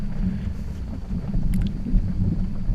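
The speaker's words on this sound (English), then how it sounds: "you can hear we've got a bit of a thunderstorm here." Thunderstorm with wind at night: a steady low rumble and gusting wind noise fill the background, with a brief sharper burst partway through and no talking.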